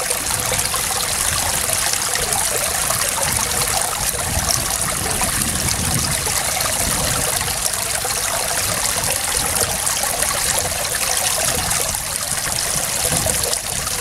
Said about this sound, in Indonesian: Ini lagi diperas bosku biar airnya enggak terlalu banyak supaya udang rebonya kering